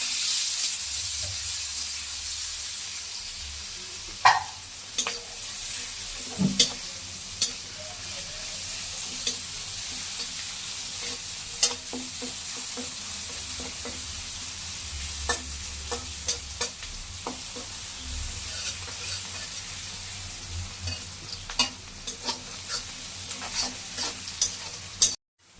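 Chopped onion and garlic fry in leftover oil from frying hilsa fish, a continuous close sizzle broken by frequent sharp pops and occasional stirring scrapes, with no voices.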